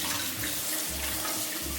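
Tap water running steadily into a sink while chopped lettuce and cucumbers are rinsed, a continuous close splashing rush with slight shifts in the flow and no voices.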